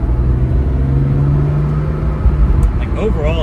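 BMW E46 M3 with an SMG gearbox being driven, giving a steady low road and engine rumble inside the cabin that holds at an even level throughout, with faint muffled voices underneath.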